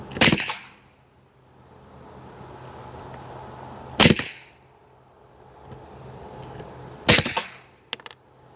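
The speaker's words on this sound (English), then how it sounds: "we're going to fire the subsonic suppressed out of the Taurus TX22" Three sharp, short cracks from a suppressed Taurus TX22 pistol firing subsonic rounds, evenly spaced several seconds apart, each with a brief tail, against quiet background hum.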